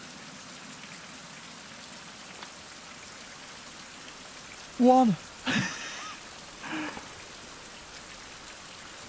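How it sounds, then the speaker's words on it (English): Steady rain in a survival video game hisses as a continuous wash of noise, with a few short bursts of a voice over it partway through. "I'm talking over the rain."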